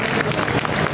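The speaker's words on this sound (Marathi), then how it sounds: "जोरदार टाळ्या, मनापासून जोरदार टाळ्या" Applause from an audience at a Marathi award felicitation event in Kankavli, honouring film director Rajdatt: a brief, dense, steady wash of clapping filling the hall.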